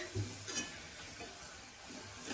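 Fenugreek leaves frying in oil for a dal, with a soft continuous sizzle and a couple of light stirring scrapes, close but quiet, with no voices.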